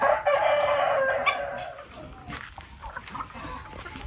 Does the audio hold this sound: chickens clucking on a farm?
yes